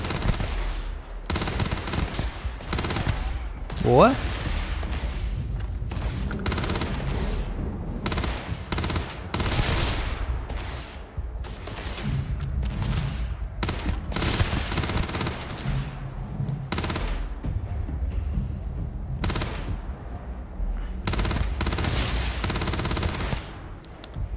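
Gunfire in the video game Starfield: dense, sustained automatic weapon bursts and heavy shots layered with explosions and combat effects, loud and continuous, with a brief spoken word at one point.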